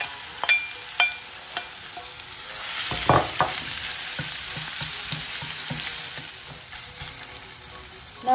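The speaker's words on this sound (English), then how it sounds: "I put 2 tablespoons of oil. I'm gonna add 1 chopped onion." Chopped onion hits hot oil for a courgette bhaji, raising a steady close sizzle that swells after a few early clinks, with light stirring taps and scrapes over the continuous frying hiss.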